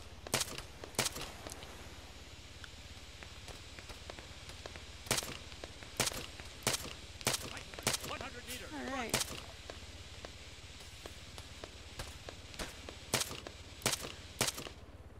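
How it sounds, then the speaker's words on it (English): Sharp gunshots crack out in irregular bursts in the video game Arma, single shots and quick pairs spread across the span, loud and close, with faint game sounds between. "I'm hearing gunshots."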